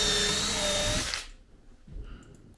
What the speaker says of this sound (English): Now I'm going to drill the remaining holes for the shorter poles.